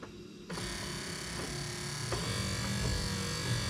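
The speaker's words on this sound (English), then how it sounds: "we're gonna turn the ignition on and just cycle the wiper motor assembly" An early-1990s Honda Civic windshield wiper motor and linkage switches on and runs with a continuous buzzing hum, with faint repeating ticks as the arms cycle.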